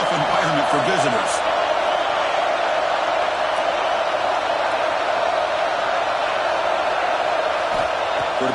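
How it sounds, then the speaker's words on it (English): A home crowd at an American football stadium keeps up a steady, dense roar of cheering, noise that washes on without a break while a commentator talks over it. "Listen to the crowd energy here in the early going."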